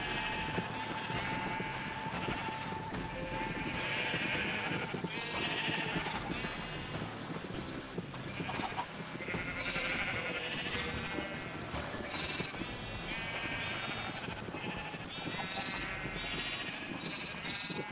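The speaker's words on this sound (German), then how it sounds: "Dann jetzt hier die braunen Schafe." Brown sheep in the video game Minecraft bleat repeatedly in short, overlapping calls over steady background game music, with no talking.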